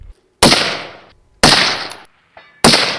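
Three loud, close rifle shots from an AR10 outdoors, spaced about a second apart, each a sharp crack trailing into a short decaying echo.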